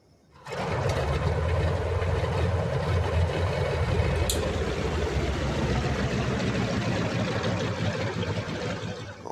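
A propeller airplane engine with a tail skid catches after being hand propped, roaring loud and steady at close range through the rest, a brief sharp tick near the middle.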